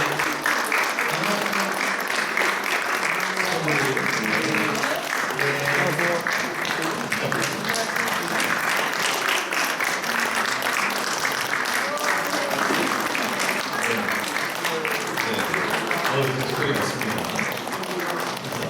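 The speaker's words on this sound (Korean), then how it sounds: "뜨거운 박수 한 번 더 해주시기" Warm, sustained applause fills a church ordination service, a dense continuous clapping from the congregation lasting throughout, with a voice speaking over it.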